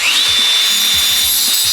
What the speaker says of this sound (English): what I do have is this rod and this angle grinder